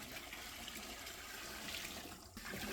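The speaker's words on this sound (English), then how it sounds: "I'm adding the final amount of water to take us up to the 30-litre mark" Water poured steadily into a 30-litre sugar wash for distilling, made with turbo yeast: a continuous broadband splashing rush that runs the whole time, briefly dipping near the end before resuming, close and fairly loud, with no talking.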